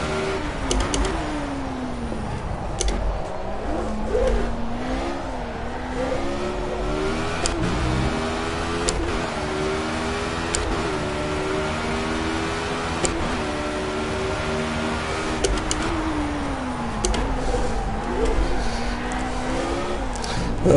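A Formula A single-seater race car engine in Project CARS revs hard and continuously, its pitch climbing and dropping through gear changes, with occasional sharp clicks over the steady, loud drone.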